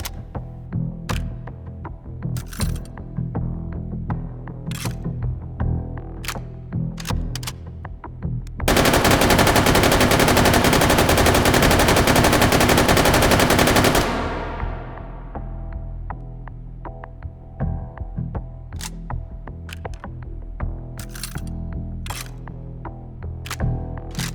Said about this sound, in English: and introducing, finally, belt-fed machine guns